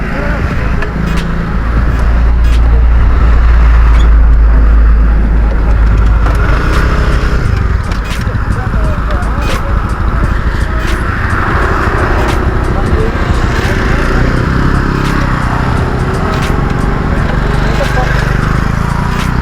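A motorcycle engine runs steadily on a street at night, a loud low drone that holds throughout, with people talking over it.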